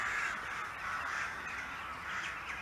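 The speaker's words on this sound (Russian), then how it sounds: "Не качки, то вороны." Crows caw by a lake, repeated harsh calls rising over a steady outdoor wash, moderately near, with no talking.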